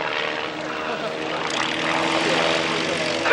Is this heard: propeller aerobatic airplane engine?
yes